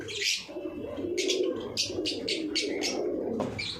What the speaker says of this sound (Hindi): और ये देख ले कबूतर का जोड़ा, ये देखिए जोड़ा